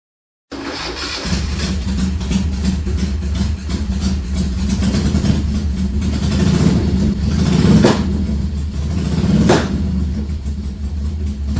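Custom motorcycle engine running with its mufflers removed, a close, loud, steady rumbling idle with small throttle swells and a couple of brief blips.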